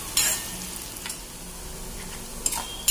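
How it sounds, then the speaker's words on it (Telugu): A spice tempering for coconut dal fries in hot oil with a soft, steady sizzle, broken by a few sharp spatters and light stirring clinks near the start and end. "తాలింపు వేగిపోయింది కదా,"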